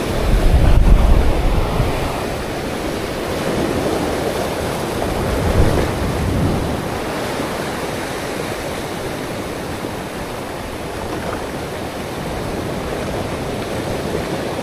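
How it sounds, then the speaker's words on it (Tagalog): Big ocean waves crash on shore in a dangerous fishing spot. The surf roars loud and continuous, with a heavy surge near the start and another midway, under gusty wind noise. "Nalalaki ng mga alon."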